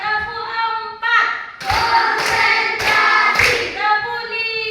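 In a classroom, a group of pupils claps hands in counted sets, with several sharp clap bursts in quick succession between loud chanted counting by many voices.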